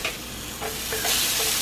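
Zucchini noodles sizzle and are stirred in a hot frying pan with minced garlic, a close, steady frying hiss with soft scraping turns, no talking.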